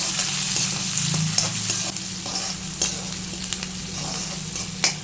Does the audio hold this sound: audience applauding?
no